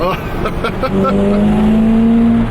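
A 1980s Ferrari drives along, its engine a steady close drone with a rising tonal note, after brief knocking sounds at the start.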